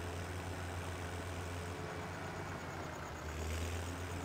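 A turbocharged tractor engine idling in Farming Simulator 2017, a steady low rumbling drone with a constant hum and slight swell near the end, heard alone.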